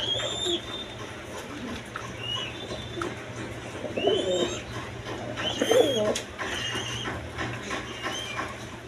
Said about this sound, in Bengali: এখানে এক পেয়ার কবুতর আছে এটা হলো ড্যানিশ